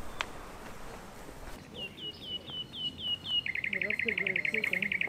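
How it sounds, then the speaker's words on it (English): Birds singing outdoors at a distance near Naousa, Greece: a series of clear whistled notes followed by a rapid trilling call, over faint insect hum. "There's some amazing sounds around here, by the way, of some beautiful birds"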